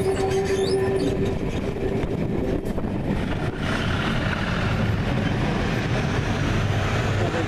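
A train passes on an electrified railway line near a junction signal box, a loud continuous rumble of rolling wagons with wheel noise throughout.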